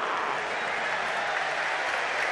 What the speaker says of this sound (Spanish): ¡Aplausos para Vélez!